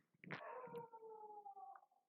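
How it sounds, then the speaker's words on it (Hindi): A dog gives a faint, drawn-out howling bark, one sustained wavering cry lasting about two seconds, heard alone. "एक तो कुत्ता भौंक रहा है"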